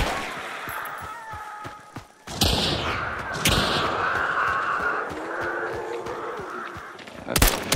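Gunfire in the video game Hunt: Showdown 1896 cracks out in a few sharp, loud bursts over a steady background hum, with a couple of shots near the end.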